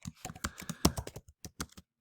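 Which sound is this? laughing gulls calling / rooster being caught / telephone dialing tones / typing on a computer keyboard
typing on a computer keyboard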